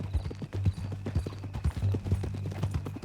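Horse hooves clip-clop in Red Dead Redemption 2, a close, steady run of hollow clops with a low hum behind and brief voices talking.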